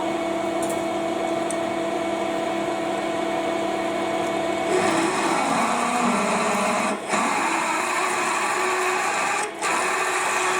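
A big stationary drill cuts metal on a rotating workpiece, giving a steady, loud mechanical whine with layered tonal hum that shifts in pitch partway through, broken by two brief dips.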